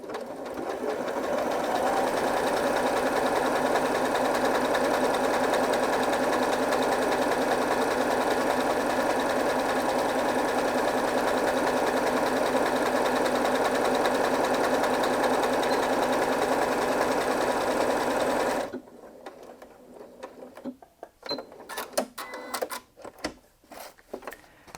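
A Janome Memory Craft 8200QCP SE sewing machine sews an elongated decorative stitch in a loud, steady mechanical run lasting about nineteen seconds, then halts, followed by scattered clicks and handling noises.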